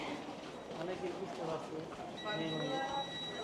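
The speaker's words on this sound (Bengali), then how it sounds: "চাইনা মেট্রোর জার্নি" Guangzhou metro train running, with a steady rumble and rail noise plus a thin high squeal near the end, while voices chatter over it.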